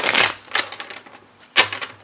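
A tarot deck, the Tarot Illuminati, being shuffled by hand: a few quick papery riffles and card slaps in bursts, close and fairly loud, with no talking.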